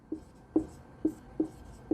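Chalk or marker strokes on a board during a maths class come as five short, faint taps and scratches, evenly spaced in an otherwise quiet room.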